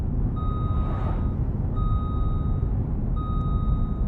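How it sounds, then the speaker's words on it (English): A modern car's speed limit warning chime beeps three times in a regular pattern, each tone about a second long, over a constant loud rumble of road and engine noise inside the moving vehicle. "every new car now, when you go over the speed limit, it bibs"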